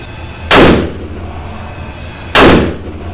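Two loud, close .460 S&W Magnum revolver shots fired at an outdoor shooting range, each a sharp crack with a booming tail, spaced about two seconds apart.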